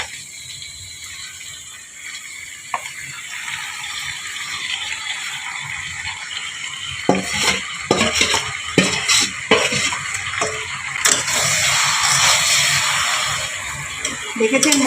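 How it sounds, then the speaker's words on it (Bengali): Lote fish dropped into a hot pan for a village-style jhal curry set off a rising, crackling sizzle that grows louder and fuller, with clinks of a utensil against the pan. "এবারে আমি মাছগুলো দিয়ে দেব।"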